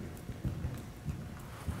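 Horse hooves clip-clopping in an even, steady stride during a riding lesson, with soft, moderately close thuds recurring about every half second and no talking.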